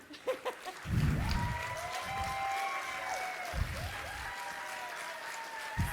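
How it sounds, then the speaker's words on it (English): Audience applause at a book talk, heard as a scattered patter of clapping from a modest room, fairly soft and continuous for several seconds with a few louder bursts. "Can we give you a round of applause?"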